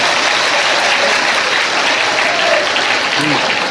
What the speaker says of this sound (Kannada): ಎಲ್ಲರೂ ಜೋರಾಗಿ ಚಪ್ಪಾಳೆ ತಟ್ಟಬೇಕು.